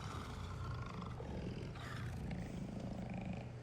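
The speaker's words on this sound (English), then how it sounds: "I'm listening to the tiger growls" A tiger in the video game Dead Rising 2 growls and rumbles continuously, a low steady roar with rough throaty texture and no talking.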